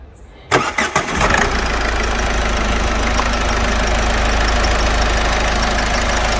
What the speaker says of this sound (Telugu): ఇంజన్ కూడా స్టార్ట్ చేసి ఎంత స్మూత్గా రన్ అవుతుందో చూపిస్తాను